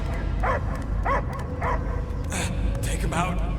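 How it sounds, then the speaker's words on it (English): A dog barks repeatedly in Marvel's Guardians of the Galaxy video game, a series of close, sharp barks with whimpering yips, heard alongside people talking. "I hear only barking."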